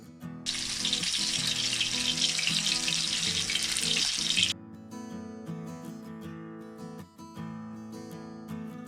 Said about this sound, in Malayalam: വെളിച്ചെണ്ണയിൽ ഒന്നില്ലെങ്കിൽ ഡീപ്പ് ഫ്രൈ ചെയ്തെടുക്കാം